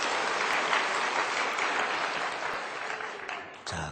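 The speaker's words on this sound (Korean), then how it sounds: "하나님 앞에 감사 박수." A church congregation claps in thanks during a Sunday service, a dense, steady round of applause that fades slightly toward the end before a brief louder burst.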